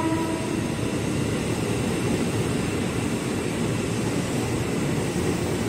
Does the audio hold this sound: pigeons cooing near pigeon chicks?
no